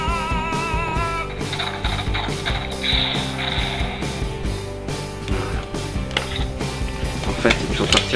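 A Zyuoh Changer DX toy clicks and ratchets as its plastic dial is turned, a rapid run of small mechanical ticks under steady electronic toy music.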